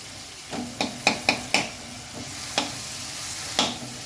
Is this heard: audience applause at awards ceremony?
no